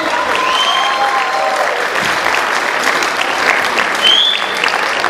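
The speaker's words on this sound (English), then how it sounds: "Can you do a bigger round of applause" A bigger round of crowd applause at a Diwali event: loud, steady clapping from a large audience, with a few whistles and cheers rising above it.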